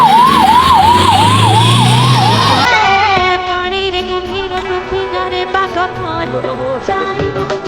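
A loud wailing ambulance siren at a road accident between a bike and a pickup van sweeps up and down close by, then shifts into a steadier, fainter tone as traffic rumbles underneath.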